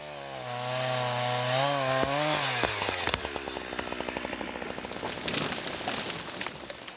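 A chainsaw revs up loudly, its pitch rising, then bites into a tree being felled by loggers in the Russian Far East, with a rough, rattling buzz that continues close by.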